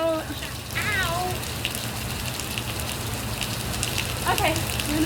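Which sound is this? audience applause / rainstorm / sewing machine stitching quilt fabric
rainstorm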